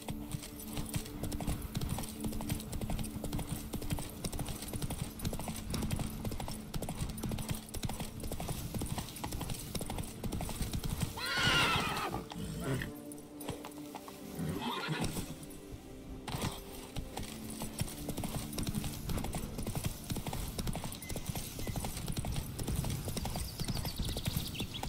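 Roach the horse gallops in The Witcher 3: Blood and Wine, steady hoofbeat clip-clop running throughout, with a brief whinny partway and a voice speaking over it.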